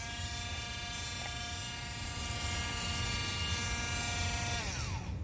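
A cordless Dremel rotary tool grinds old glue off a nitro RC car tire, giving a faint, steady high-pitched whine that winds down near the end, with no voices.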